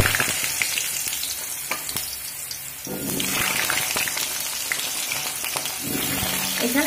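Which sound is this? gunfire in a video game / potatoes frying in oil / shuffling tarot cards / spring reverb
potatoes frying in oil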